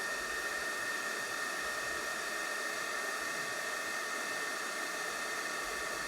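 A heat tool blows hot air over a bangle coated in embossing powder, a steady, even, fan-like whoosh that holds at a constant level throughout and is fairly quiet and close.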